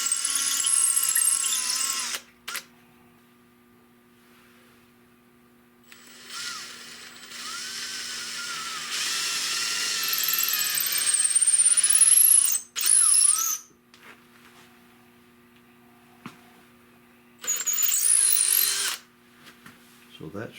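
A power drill enlarges a hole in the receiver of an old Essex double gun, whirring in several separate bursts of varying length with quiet pauses between them and a high squeal on some passes.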